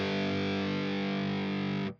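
Electric guitar through a Fractal Audio AX8 with supply sag set to zero, so power amp modeling is off: one sustained, harsh, fizzy distorted chord rings loud and steady for about two seconds, then cuts off abruptly.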